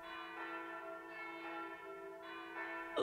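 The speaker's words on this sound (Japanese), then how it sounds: "ウェディングベルのような優しい鐘の音に包まれながら" A gentle wedding bell chimes in the video game Tokimeki Memorial GS4, its sustained ringing tones swelling in repeated strikes roughly every second, soft and resonant, with no talking over it.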